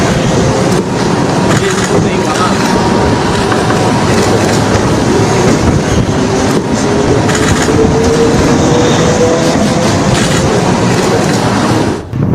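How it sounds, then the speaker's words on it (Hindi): A train crosses a long bridge over the sea, its wheels rumbling and clattering steadily and loudly throughout, with a faint rising squeal partway through. "उसी पुल से ट्रेन गुजर रही है"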